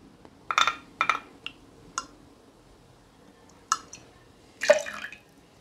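Blue curaçao is poured into a cocktail glass in short, quiet splashes and drips, a few separate bursts with near-silence between them.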